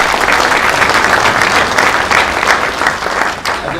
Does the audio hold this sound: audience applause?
yes